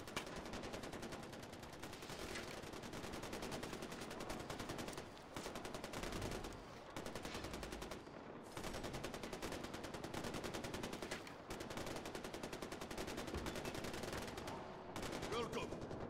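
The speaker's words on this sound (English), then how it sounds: "Oh, they're just shooting, okay." Gunfire in the video game Far Cry 4: dense automatic bursts and rapid shots rattle almost nonstop, loud and close, with brief pauses between volleys.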